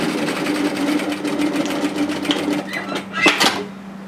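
A sewing machine runs a continuous stitching whir with a low hum as it sews a bomber-style varsity jacket seam down to the hem, ending in a brief louder burst.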